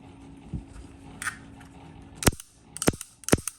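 A Beretta 92S surplus pistol fires several sharp, loud shots in quick succession near the end, with quieter mechanical clicks before them.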